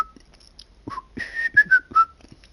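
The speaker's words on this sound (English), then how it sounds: "Can I still whistle?" A person whistles a few short, clear notes. Some are sustained and some slide in pitch, with quiet pauses between them and faint breathy sounds in the background.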